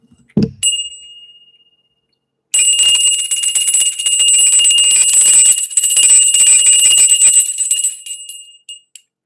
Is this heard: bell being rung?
yes